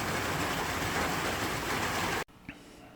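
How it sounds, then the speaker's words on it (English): Rain drumming steadily on the tin roof of a hardtop gazebo, a dense close patter that suddenly cuts off, leaving a quiet space with a faint knock. "I have my own tin roof to listen to the rain hit"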